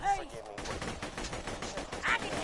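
Rapid gunfire in the video game Borderlands, a dense burst of shots mixed with game effects over about two seconds, moderately loud.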